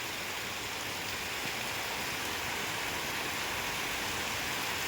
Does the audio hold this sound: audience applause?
no